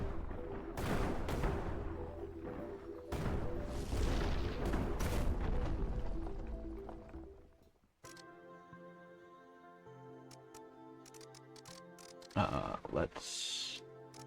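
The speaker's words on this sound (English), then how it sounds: "Kind of crazy how effective the Ferret exploders are." Explosive blasts from Ferret exploders in the video game Kin and Quarry, a dense run of booming detonations over the first eight seconds, then a quieter stretch of game sound with one more sharp burst near the end.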